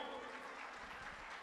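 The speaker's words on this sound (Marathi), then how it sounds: "एकदा जोरदार टाळ्या होऊ द्या." A crowd applauds at a Marathi Lokdhara folk stage show, a dense wash of clapping that stays fairly faint and distant from start to finish.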